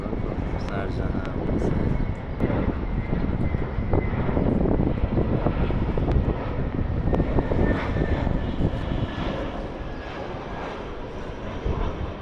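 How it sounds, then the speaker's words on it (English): An Indigo Airlines airplane arriving from Sharjah roars overhead with a loud, steady jet engine rumble and wind noise, while someone talks over it. "Indigo Airlines. Arabia arrival from Sharjah."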